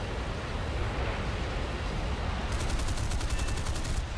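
Aircraft cannon fire in War Thunder realistic battle, a dense roar of engine and wind with a rapid rattling burst of gunfire in the last second and a half, loud and continuous, no talk.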